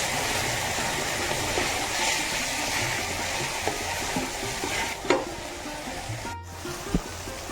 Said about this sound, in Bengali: সামান্য চিনি, কাশ্মীরি রেড চিলি পাউডার, আদা রসুন বাটা, হলুদ গুঁড়ো, নুন, জিরে গুঁড়ো, ধনে গুঁড়ো, মিট মশলা ও সামান্য একটু জল দিয়ে কষবো।